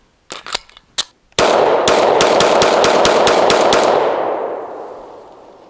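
Ten rounds from a SIG P365 Macro pistol with a metal grip module: a few sharp spaced shots, then a rapid string of loud cracks in quick rhythm, each echoing before the sound fades out.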